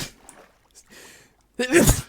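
A single loud, abrupt sneeze bursts out near the end after a few seconds of faint background murmur and quiet breathing.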